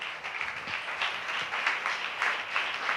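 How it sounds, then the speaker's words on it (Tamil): A church congregation at a Tamil worship service claps together for several seconds, producing steady, dense applause that fills the room. "நல்ல கைத்தட்டி ஆண்டவருக்கு நன்றி சொல்லுவோம்"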